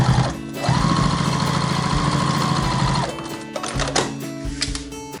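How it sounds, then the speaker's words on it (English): A sewing machine top stitches a bag panel for a crossbody bag, a steady loud close-up whir running for a couple of seconds before it stops, followed by softer handling sounds. "and now I can top stitch that one"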